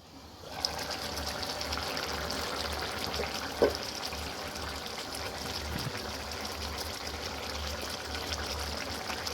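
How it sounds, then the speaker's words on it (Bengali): A pan of kaju potol curry, cashew with pointed gourd, boils close by with a continuous soft bubbling and gurgling, steady throughout, with one brief click partway through. "এটা দেখতে পাচ্ছ টকবক করে ফুটতে শুরু করেছে"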